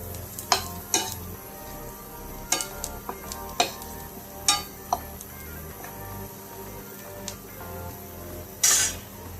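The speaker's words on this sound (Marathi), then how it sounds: "लाल तिखट, हळद पूर्ण या कांद्यामध्ये मिक्स होईल अशा प्रकारे परतून घ्या।" Onion sautés with turmeric and red chili powder for gavar bhaji, a steady low sizzle broken by sharp spoon clicks and scrapes against the pan, plus one brief louder hiss near the end.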